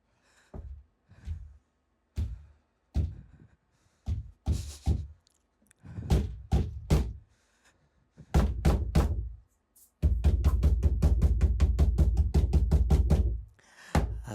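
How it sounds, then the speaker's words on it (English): Banging on a door in an audio drama, heavy thuds starting as spaced single knocks, then growing into faster pounding and ending in a rapid, continuous hammering flurry. "Open the fucking door, Frank."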